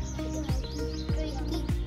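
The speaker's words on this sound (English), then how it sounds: "These are turkey birds." Turkeys calling in an enclosure at Ayub Park zoo in Rawalpindi: three repeated, downward-sweeping calls at a steady rhythm over a constant low background hum.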